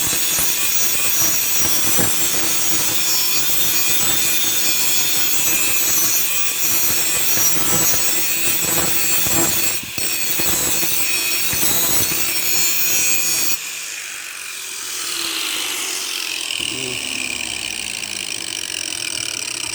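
A sawblade is ground into a knife with steady, loud, continuous abrasive grinding and rasping for about thirteen seconds. The grinding then drops to quieter rubbing and scraping.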